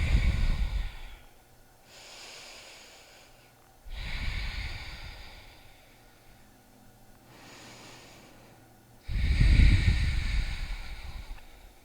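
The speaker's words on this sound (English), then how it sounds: "Breathing here." Deep, slow yoga breaths during a power yoga mobility session: three long, loud breathy exhalations close to the mic, spaced a few seconds apart with quieter inhales between.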